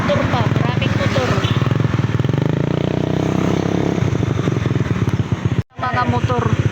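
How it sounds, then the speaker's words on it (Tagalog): Several motorcycles pass along a road, their loud, continuous engine drone filling the whole stretch with a brief drop near the end, while people talk over it. "Ayan, may motor pa. Maraming motor."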